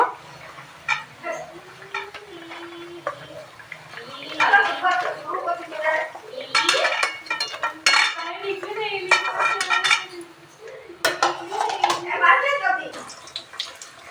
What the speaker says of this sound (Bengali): বেগুনিগুলো আমি এবার উঠিয়ে নেব